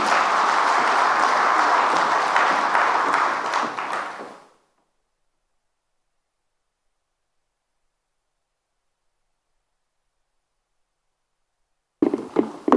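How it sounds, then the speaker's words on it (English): A crowd at a government health coverage investment launch event applauds steadily for a few seconds, the clapping fading into silence before a brief burst of sound at the end. "Another round of applause."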